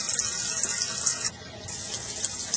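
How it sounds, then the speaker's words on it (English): Water from a small backyard pond waterfall, built over leftover pond liner, splashing and trickling steadily at close range, a continuous bright wash with a brief dip partway through and no voices. "voila, there's my little waterfall"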